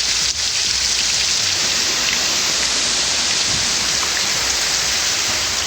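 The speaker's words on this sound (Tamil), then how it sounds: "அதேபோன்று தஞ்சாவூர் மாநகரில் கனமழை கொட்டி தீர்த்தது." Heavy rain pours over Thanjavur city in a dense, even hiss that stays loud and unbroken throughout, with no voices.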